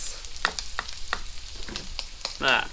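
Onions frying in sausage fat in a pan for a hearty camping breakfast casserole, a close sizzling crackle broken by repeated sharp scraping stir strokes, with no one talking.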